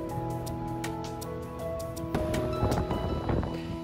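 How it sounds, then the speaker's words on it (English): Steady wind on a lake shore buffets the microphone with a low rumble, and a louder gust rises partway through; no one speaks. "It's so windy by the shore."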